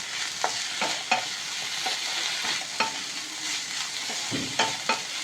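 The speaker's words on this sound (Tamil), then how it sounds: "1/4 கப் தேங்காய், அதையும் இது கூட சேர்த்து வதக்கி எடுத்து வச்சிடலாம்." Moringa leaves and a quarter cup of grated coconut are sautéed in a pan, a soft steady sizzle broken by a spoon scraping and stirring every second or so, close up with no talking.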